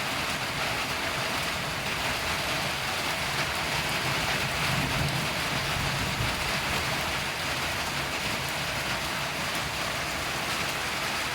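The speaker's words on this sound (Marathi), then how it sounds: "किती जोरात आवाज येतोय ढगांचा." Rain pours steadily in a village, a dense continuous hiss with a low rumble of thunder beneath it, loud and unbroken throughout with no voices.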